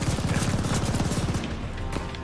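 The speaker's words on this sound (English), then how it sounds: "Who else is shooting at us?" Rapid bursts of automatic gunfire crackle loudly in the Call of Duty: Vanguard campaign, a dense rattling volley that fades into a lighter, scattered tail of shots.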